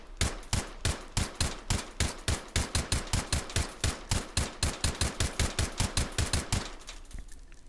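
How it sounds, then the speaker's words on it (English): Suppressed ACR rifle firing a long string of evenly spaced shots, about thirty sharp muffled cracks in quick rhythm, loud and close, ending with a brief quiet tail; no talking. "So let's go ahead and fire this guy off now that we have a very cool suppressor."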